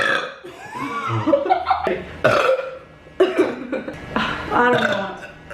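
A woman burps several times in a row, deep and guttural, close and fairly loud, separated by brief pauses, with hints of laughter or throat noise between them.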